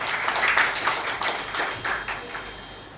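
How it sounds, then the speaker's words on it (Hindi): Audience at a microbiology department lecture claps as a doctor is welcomed onto the stage: a short burst of fairly close hand claps that peaks early and thins out over a few seconds, with no talk. "आप सबकी भरपूर तालियों में doctor Abid Rao, please come on stage."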